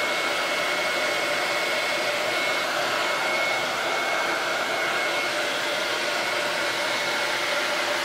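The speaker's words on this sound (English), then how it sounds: "Just on a hairdryer high." A hair dryer runs on high, heating WoodUBend trim on a reclaimed cupboard door, giving a steady, close, continuous whir with a faint tonal whine and no voices.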